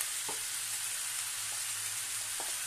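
Peas for ghugni fry in oil with a soft, even hiss, while a few sparse spoon strokes scrape the pan, quiet and close.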